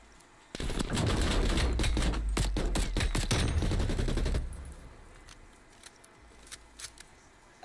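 XM4 rifle fire in a Call of Duty match, a loud rapid automatic burst of close shots lasting about four seconds, then quieter game ambience with a few faint distant shots.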